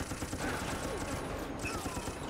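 Dense, continuous gunfire from the video game Resident Evil: Operation Raccoon City, a steady rattle of rapid shots running throughout at constant loudness with a voice faintly mixed in.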